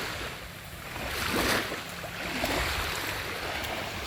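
Sea waves wash onto a beach in a steady, broad rushing roar that swells slightly near the middle, with no voices.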